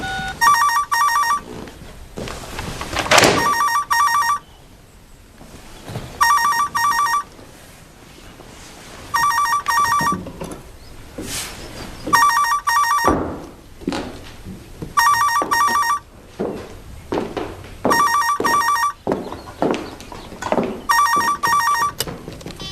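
An old-style telephone bell rings in repeated bursts with pauses between them, loud and near, mixed with clattering and movement sounds in a room.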